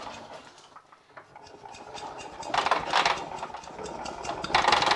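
A Velo Solex 5000 moped engine is turned over during a fuel pump check, giving a rough, repetitive mechanical churning that grows louder over a few seconds. It is close and heard without talk.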